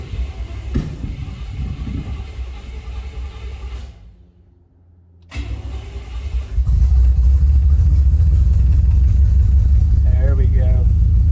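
A V8 Buick LeSabre engine runs loudly and rough close by, dipping briefly before it is revved hard into a sustained, heavy roar. Voices may be mixed in with the engine noise.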